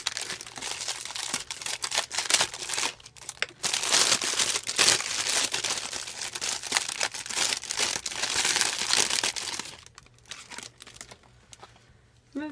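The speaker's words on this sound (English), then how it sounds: "I'm going to use the scissors to cut through this." Scissors cutting and crinkling through plastic mail packaging up close, a long run of crackling, rustling and tearing sounds with brief pauses near the end.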